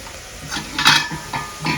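Spices and turmeric are stirred in a sizzling frying pan for a chicken kushka. Several scraping strokes come in bursts over a low, steady frying hiss, close and fairly loud.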